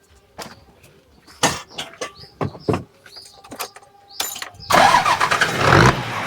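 Clicks and knocks, then the heavy diesel engine of an Isuzu Rocky 195 truck cranks and roars to life, rumbling loudly up close.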